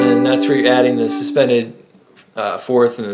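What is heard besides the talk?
None of the usual background noises is heard.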